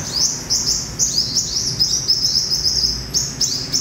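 A captive sunbird calls close by in the morning with a rapid series of high, thin chirps and tweets in short irregular bursts over soft background noise.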